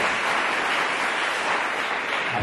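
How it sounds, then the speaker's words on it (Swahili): Audience at a school empowerment program event giving steady, dense applause that holds evenly throughout without any voices over it. "Hapa tupige na makofi mzuri kabisa"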